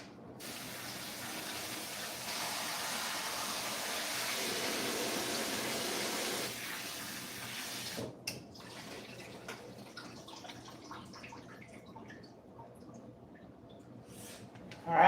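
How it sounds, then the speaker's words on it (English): Tap water sprays from a kitchen faucet to rinse frozen vegetables, a steady splashing rush for about eight seconds, then quieter drips and rustling handling sounds. "Let me rinse these frozen ones off."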